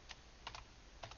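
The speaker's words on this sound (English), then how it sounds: "you start typing" Quiet, quick clicks of keys being tapped on a computer keyboard, in small irregular bursts over faint background hiss.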